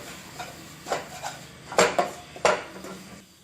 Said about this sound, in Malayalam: ഇത് ഇത്രയും കൂടെ ചേർത്തിട്ട് നമുക്ക് നന്നായിട്ടൊന്ന് മിക്സ് ചെയ്യാം.